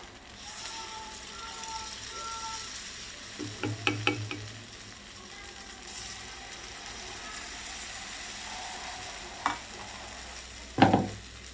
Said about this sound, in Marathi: मी ते हे बॅटर घालत आहे बघा तव्यामध्ये